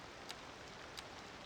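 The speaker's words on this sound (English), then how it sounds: "It's kind of a miserable rainy day, so we can take care of that." Rain in Cities Skylines 2, a faint, steady hiss of falling rain with a couple of light drop ticks and no talking.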